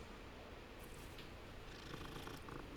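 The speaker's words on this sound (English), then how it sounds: "Pet this cat real quick." A cat in Hogwarts Legacy purrs softly while being petted, a faint, steady rumbling purr under a light background hiss.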